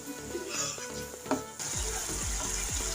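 A spice paste with tomato fries for a rohu fish bhuna, a low close sizzle with spoon clinks that turns into a louder, bubbling crackle with repeated stirring scrapes.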